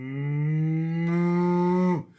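A person imitates a cow with one long, steady, drawn-out moo that holds a low, buzzing tone before dropping off abruptly at the end, loud and close with no other sounds.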